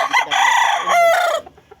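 Chickens cluck and a rooster crows nearby, one loud sustained crow breaking off abruptly, with a few soft clucks trailing after it on a Filipino poultry farm.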